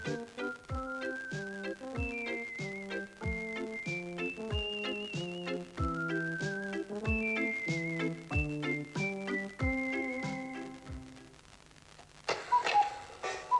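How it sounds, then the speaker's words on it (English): A chorus of repaired old clocks in a children's television story chimes out bright, melodic tones in a steady stepping pattern with soft ticks underneath, fading toward the end into a faint shimmering tail, with no speech. "the old lady woke up to the sound of ticking and tocking and different chimes"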